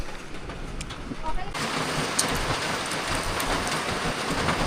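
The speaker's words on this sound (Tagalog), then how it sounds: "Hindi pa rin tumitigil o ulan." Steady rain keeps falling on a sunny-and-rainy day, a dense, even hiss that swells louder after the first moment and continues without a break.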